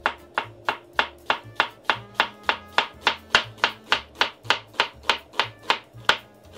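A knife chops onions thinly on a cutting board in a food truck kitchen. The close, crisp strokes come at a steady, quick rhythm, around three per second, with no talking over them.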